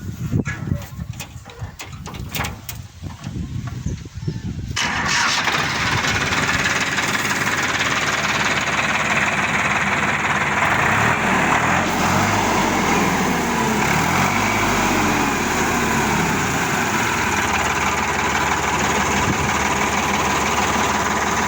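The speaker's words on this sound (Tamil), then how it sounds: "வண்டி சவுண்டு பாருங்கள், இன்ஜின் சவுண்டை." A Solis 4415 50 HP tractor with about 2500 hours, used for baling, runs with a loud, steady diesel drone held close for most of the stretch after rougher, uneven sounds at the start.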